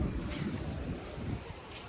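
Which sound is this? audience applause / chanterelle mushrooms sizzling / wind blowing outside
wind blowing outside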